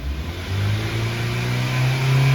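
A 2017 Kia Rio with a 1.6 engine and a P0014 timing fault code revs steadily as it accelerates, a continuous mid-pitched engine drone that climbs in pitch and stays loud and close throughout.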